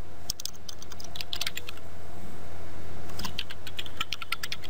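Keys on a computer keyboard clatter in two quick bursts of typing over a faint steady hum, as a command is entered while setting up a Cisco ASA 5510 firewall from the command line.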